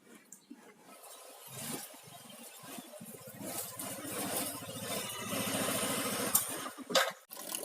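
A new Nmax motorbike engine running nearby, a steady mid-pitched rumble with a rhythmic puttering pulse that builds slightly over several seconds, with a few brief sharper knocks near the end.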